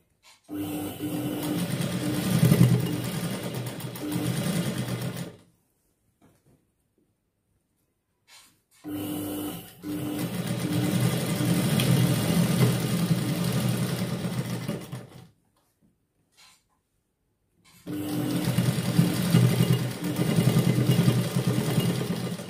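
A sewing machine stitches a sleeve onto a readymade blouse in three loud, close bursts of rapid mechanical whirring and clatter, separated by short silent pauses.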